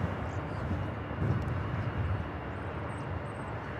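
A United Boeing 737-800 airliner passes at Los Angeles International Airport, its engines a steady broad roar with a slight swell midway, distant rather than overhead, with no voices.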